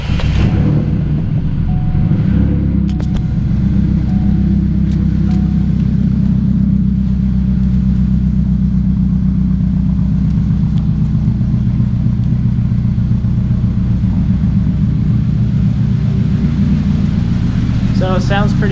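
A 2006 Chevrolet Cobalt SS with a 4-cylinder LSJ engine and a freshly fixed valve cover gasket runs at a steady, loud, close idle with a deep continuous drone, with someone talking over it.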